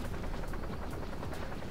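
A dense, noisy whir of helicopter blades in the video game Robocraft throbs steadily throughout, with rhythmic chopping pulses under a constant hiss.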